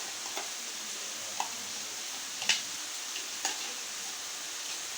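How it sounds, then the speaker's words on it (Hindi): Yogurt being stirred into chicken malai handi curry: a faint, steady simmering hiss with a few soft spoon taps and scrapes against the pot, no voices. "और अब जो है हम इसको मिक्स करेंगे।"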